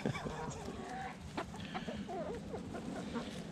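Chickens cluck and murmur in a backyard coop on a cold day, several birds close by with soft overlapping calls and occasional sharper clucks over a steady low background.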